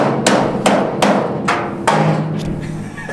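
A hammer strikes the frame rail of a 1970 Chevrolet C10 pickup being fitted with air ride, five or six sharp metallic bangs at an uneven, roughly half-second rhythm, loud and close with no talking.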